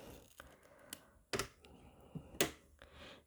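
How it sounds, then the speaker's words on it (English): Small scissors snip a miniature botanical toy stem to shorten it: two crisp, close cuts with a few lighter clicks of handling around them, no talking. "I'm going to cut slightly."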